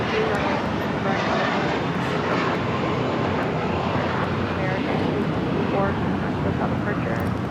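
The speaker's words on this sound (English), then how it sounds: "This is American Airlines 274 taking off to JFK on the A321" An American Airlines A321 bound for JFK takes off at LAX, its jet engines a loud, continuous broadband roar, with a voice talking over it.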